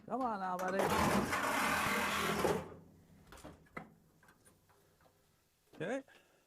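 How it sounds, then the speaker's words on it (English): A Sawzall reciprocating saw cuts through rusted metal on a 1950 Chevy truck. It makes a loud, harsh buzz for about two seconds, then stops abruptly, followed by scattered clanks and a voice. "I'm gonna finish that cut with the Sawzall"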